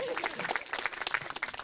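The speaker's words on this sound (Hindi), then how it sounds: "ताली बजाओ जी" Young audience at a Delhi election event with Arvind Kejriwal breaking into brief scattered clapping, fairly close and lively, with speech mixed in over a short burst of applause.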